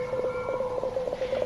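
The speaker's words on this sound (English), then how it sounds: "Nothing but a mathematical sine wave." A steady pure electronic tone from a computer readout in a science-fiction series hums continuously, with a slight pulsing wobble and faint background hiss.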